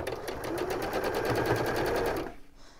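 A sewing machine stitching a patchwork block runs steadily for about two seconds with a fast, even mechanical whirr, close and loud, then stops abruptly.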